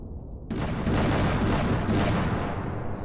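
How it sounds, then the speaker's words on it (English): Bombs landing and bursting in a video game after a boss's ground smash, a sudden dense wall of booming, crackling impacts that starts abruptly and rumbles on loudly and continuously. "when the boss does the smash, it triggers the bombs to land here, around here"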